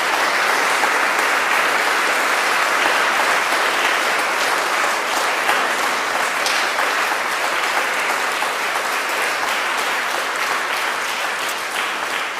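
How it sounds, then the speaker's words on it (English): At the 2021 Tasmania Australian of the Year Awards, an audience applauds the award nominees with sustained, dense clapping that holds loud and steady for the full length. "let's give them all a huge round of applause"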